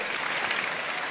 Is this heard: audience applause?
yes